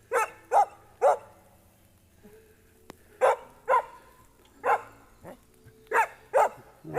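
A dog barks outdoors in short bursts of two or three sharp woofs separated by pauses, fairly close and clear against a quiet background.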